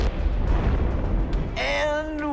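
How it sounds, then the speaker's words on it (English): A cement truck packed with explosives detonates in a huge blast, a deep rumbling roar filling the low end before a high ringing tail rises as the boom decays; voices are audible around it. "we set off the biggest explosion in Mythbusters history"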